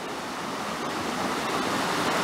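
Swollen water rushes steadily through a rocky gorge after recent wet weather, a dense, continuous roar heard up close with no talk over it.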